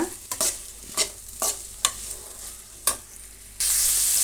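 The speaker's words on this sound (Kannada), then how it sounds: "ಈಗ ಇದನ್ನು ನಾವು ನೀಟಾಗಿ ಫ್ರೈ ಮಾಡೋಣ" Carrots for carrot upma stirred in a frying pan: a run of sharp spatula scrapes and clicks at uneven intervals over a quiet sizzle, then a steady loud hiss of frying swells up at the end, with no voices.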